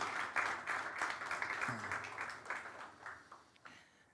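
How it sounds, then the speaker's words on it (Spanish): Church congregation applauding during a sermon, a steady patter of many hands clapping at moderate distance that gradually thins out toward the end. "Dale un aplauso porque estas son revelaciones que vienen desde el corazón de Dios."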